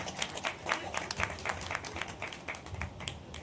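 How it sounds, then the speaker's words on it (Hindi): A crowd at an outdoor political rally claps and applauds, a fairly faint, distant patter of many uneven hand claps continuing throughout. "यहीं से ताली बजाइए कि गया तक इसकी आवाज जाए।"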